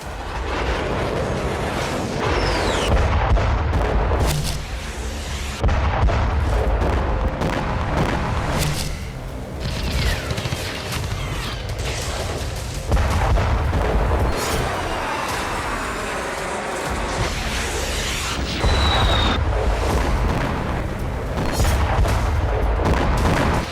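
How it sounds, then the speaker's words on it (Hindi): Repeated explosions and blasts from Israel-Hezbollah war footage strike one after another, loud booms in uneven bursts with rumbling aftershocks and crackling debris, some close and some more distant, with no speech. "एक के बाद एक धमाके हो रहे हैं।"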